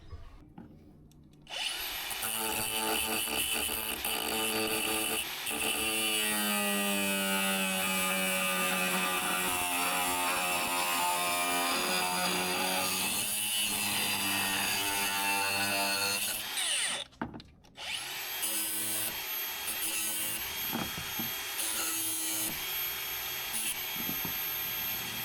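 Power tool cutting metal sections of a Front Runner gas bottle mount for a Land Rover Defender 110 camper, a loud steady high-pitched whine grinding through metal, briefly pausing before a second cut.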